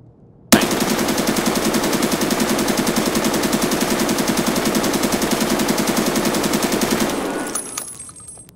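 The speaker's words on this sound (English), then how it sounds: "We now have the weapon on full auto." Full-auto weapon fire in Escape from Tarkov, a dense, unbroken burst of rapid shots lasting about six and a half seconds, loud and close, ending in a short ringing tail with no talking.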